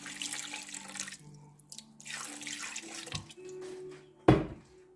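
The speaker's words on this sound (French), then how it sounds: "Après, on va mettre notre eau" Lukewarm tap water runs into a container while making pizza dough in a home kitchen, a soft, steady splashing stream that stops and restarts with gaps, ending in a brief louder splash.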